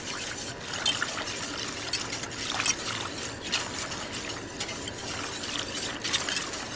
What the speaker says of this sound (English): So I'm going to add this relatively quickly, stirring constantly.